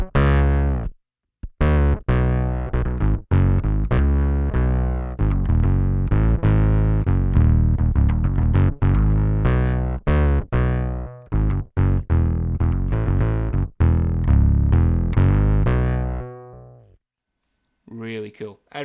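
Bass guitar running through an OC2 octave pedal and a Gojira Effects glitchy analog octave-up pedal, making a gritty synth-bass sound. A long, dense stream of loud, fast notes with a few brief breaks, cutting off near the end.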